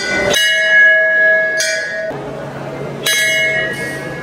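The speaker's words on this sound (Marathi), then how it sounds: "सुरेश भाऊनी खूप जोरात घंटा वाजवला आमच्या." A Devi temple bell is struck loudly several times in quick succession, each clang ringing bright and metallic with a long shimmering decay, close by.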